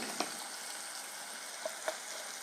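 Tomatoes cooking in a pan on a stovetop, a steady faint sizzle and hiss with a few soft pops, continuous and even throughout, with no talking.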